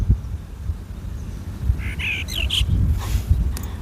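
A bird chirps in a few short bright calls amid steady background noise, with rumbling low sounds underneath.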